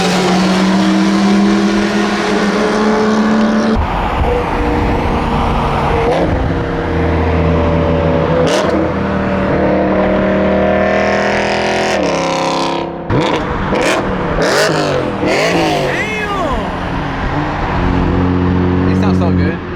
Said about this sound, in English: It's literally the best sounding M3, bro.